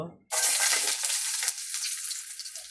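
Garlic drops into hot oil with a sudden loud sizzle that settles into a steady, bright crackling hiss, close up, with light stirring and no voices.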